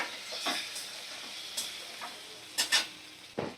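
Eggs and potatoes tipped into spiced oil for egg biryani, a soft steady sizzle close by, broken by a few sharp scrapes and clinks of a spoon against the pan.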